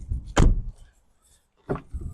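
A heavy car door at a Copart vehicle lot thuds shut, two loud, close, deep impacts separated by a short quiet gap.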